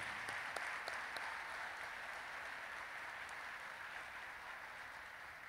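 An audience at a Veterans Day program gives a sustained round of applause, a broad even hiss of many clapping hands heard somewhat distant and soft, holding steady for several seconds.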